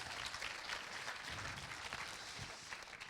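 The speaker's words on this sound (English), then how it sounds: "Give her a round of applause." Audience applause after a performance at a BFI Flare cast and director Q&A, a steady, dense patter of many hands clapping that holds for the whole stretch at moderate level, with no talk over it.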